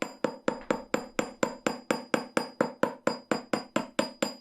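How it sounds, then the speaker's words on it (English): Hammer strikes flattening and drawing the end of a 2 mm wire to a point, a steady run of about eighteen sharp, close metallic blows at an even quick rhythm, with no voices. "we want to hammer that end third of the wire"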